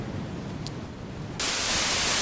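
Dull, muffled synthetic noise made in the 4klang synthesizer hisses along, then abruptly jumps to a much louder, harsh, distorted wash of static.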